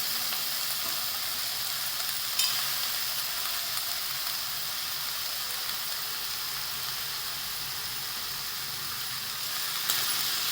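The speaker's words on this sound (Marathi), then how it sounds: "आता मेथी चांगली खालीवर करून घेऊया" Fenugreek leaves frying and being stirred in a pan for a spicy Maharashtrian methi zunka, giving a steady, close sizzle with a few faint scrapes of stirring and no voices.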